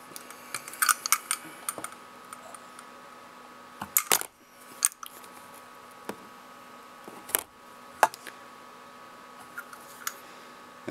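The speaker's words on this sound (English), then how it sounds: "A sharp blade, and keep it right up against that edge, and a sharp blade will cut right through these pretty quickly." A sharp blade cuts around the crimped aluminium can of an electrolytic capacitor, giving scattered sharp scraping clicks and snaps at close range, with a few louder bumps and no talk.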